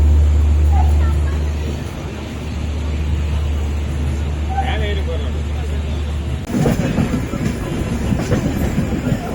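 The Nilgiri Express passenger train rolls along the tracks out of Coimbatore with a steady, heavy low rumble; the clattering grows rougher and louder toward the end.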